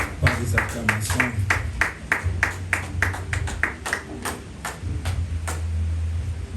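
In a church service, a congregation claps for the singers: a steady run of sharp, distinct claps with a low hum beneath, moderately loud and fading toward the end.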